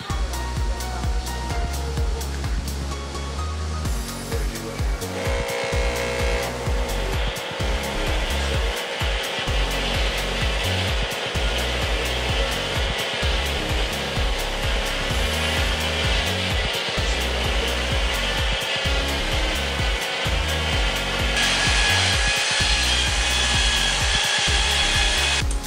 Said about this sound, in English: We are now ready to start using our drill motors.